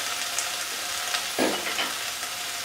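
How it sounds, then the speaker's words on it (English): Khova hits a hot pan with a steady sizzle and frying crackle, and a brief thicker burst of sizzle comes when it is stirred, with no voices. "I will add the khova because this needs to melt it down"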